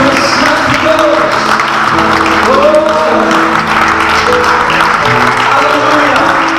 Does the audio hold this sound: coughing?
no